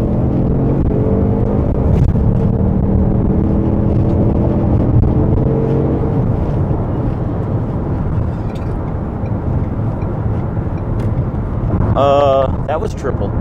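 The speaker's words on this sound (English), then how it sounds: "Here we go, the fake engine sound." A car's artificially engineered fake engine sound plays as a steady low rumble and drone through a long stretch of driving, with someone talking over it near the end.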